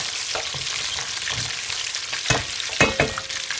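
Meat fries in a pan with onion for an Iraqi dried white bean dish, sizzling steadily up close. Sharp bursts of stirring and popping break in toward the end.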